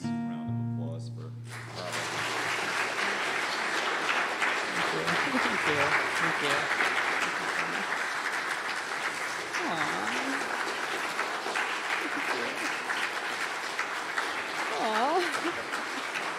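An audience at an acoustic concert claps warmly and continuously, a dense steady applause from the crowd, while a performer speaks briefly over it to thank them.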